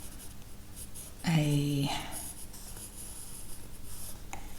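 Pencil sketching on paper, soft continuous scratchy strokes close up, briefly interrupted by a short vocal sound.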